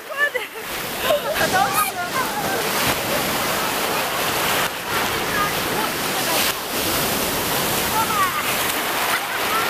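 Ocean waves break and wash onto a beach on a warm day, a loud, continuous surf roar with repeated splashing surges, and faint voices drift through beneath it.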